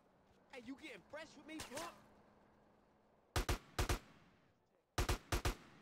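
Enemy gunfire in the video game GTA San Andreas: two tight clusters of three or four sharp, loud gunshots in quick succession, following a stretch of talk.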